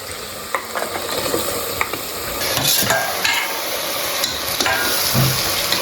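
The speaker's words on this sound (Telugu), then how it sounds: "మటన్ బోన్స్ వేసిన తర్వాత ఒకసారి కలుపుకున్నాము." Mutton bones fry in a pan for paya as a spoon stirs them, giving a steady sizzle with repeated scraping and clinking strokes, close and fairly loud, with no talking.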